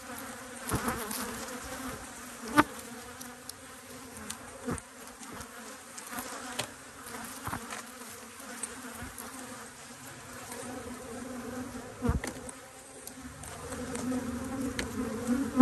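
Honey bees in apiary hive boxes give a steady, dense buzz close by, with occasional sharper knocks and taps from the frames over the continuous drone.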